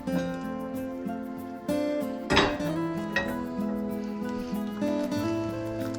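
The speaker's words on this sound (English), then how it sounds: "Making sure everything's stirred in and in contact with the liquid and isn't getting scorched." Crabapples simmering in water being stirred in a pot, with a spoon knocking and scraping against the metal a few times over a steady background that carries a musical tone.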